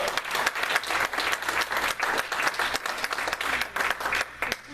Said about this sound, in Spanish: Hace aplaudir, aplauda al Señor